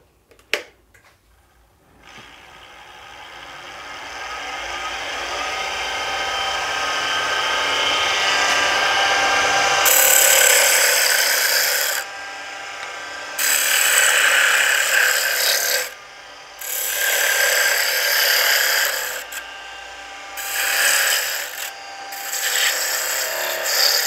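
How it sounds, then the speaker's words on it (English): A roughing gouge cuts a wooden honey dipper spinning on a lathe, a rising steady scraping hiss that later breaks into several bursts with short pauses between them. "go back to our rough and gouge in order to continue shaping the dipper"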